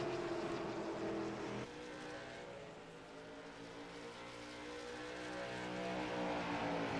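Race car engines roar past on an oval track during a charity race, a sustained loud drone whose pitch shifts as cars accelerate off the corner and pull down low, steady throughout with no clear talk.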